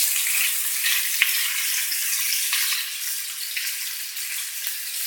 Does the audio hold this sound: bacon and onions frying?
yes